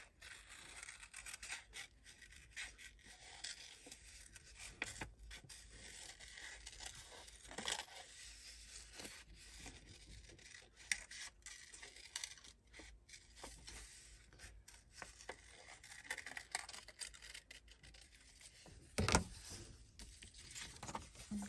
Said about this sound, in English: I think I'm going to go ahead and cut around.